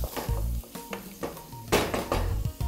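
A spoon scrapes and clanks against a pot while fresh tomatoes sizzle and are stirred for a crab stew, loud and close, with repeated irregular stirring strokes.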